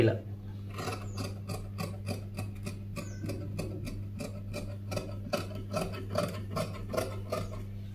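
Scissors cut fabric for a beginner's princess-cut tailoring pattern, producing a steady rhythm of crisp snips close by, repeating at an even pace throughout.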